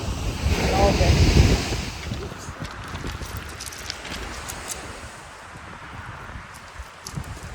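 Ocean waves wash onto a shore strewn with sticks and stones, a broad steady surf roar that swells loudest early and then settles, with wind buffeting the microphone throughout.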